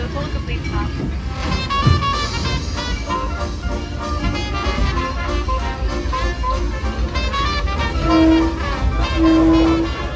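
The Disneyland Railroad train rolls into New Orleans Square Station with a continuous clatter and rumble, and a couple of short whistle toots come near the end, while a station announcement plays over it.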